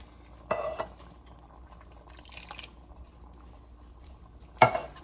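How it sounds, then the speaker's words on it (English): A spoon stirs and scrapes through chili with tomatoes in a pan, two distinct scraping clanks separated by quieter stirring, heard close with no talk. "And I'm gonna give this a good stir."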